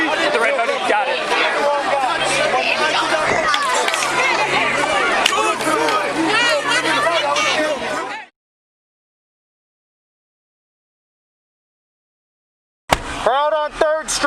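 A crowd of protesters on 3rd Street makes a loud, dense babble of shouting and chatter for about eight seconds, then cuts to silence before a short burst of voices returns.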